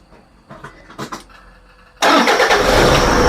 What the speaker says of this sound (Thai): ทีนี้ก็ไปสตาร์ทรถเลยครับ